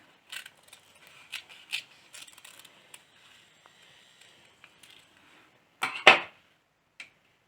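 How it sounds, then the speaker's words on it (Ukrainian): Scissors cut paper for a children's appliqué. Scattered quiet snips and paper rustles lead to a louder, sharper cutting crunch near the end, close by and without voices. "і беру ножниці і вирізаю з уголка по уголочки"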